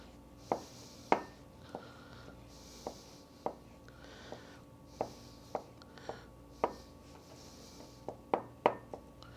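A sharp knife slices pre-cut green olives on a cutting board in a dozen or so crisp, close taps at an uneven, unhurried pace, with soft background noise between the cuts.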